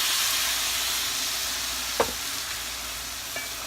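Green salsa stirred into rice in a pan on the stove, a steady soft sizzling hiss throughout with a couple of brief scraping clinks near the midpoint and later, no voices.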